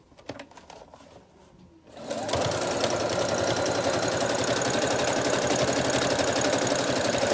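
After a quiet stretch of light handling, a sewing machine starts up and stitches along a fabric edge, running at a fast steady whir with a rapid mechanical needle chatter that stays loud and close for the remaining seconds.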